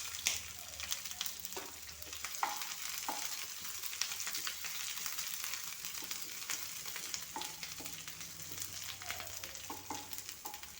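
Mixed vegetables with capsicum frying in a pan, heard as a faint, even sizzle with scattered small pops and occasional stirring clicks throughout, no talking.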